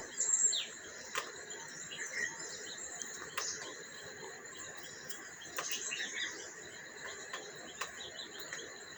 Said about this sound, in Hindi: सिर्फ परिंदों की चहचहाहट है।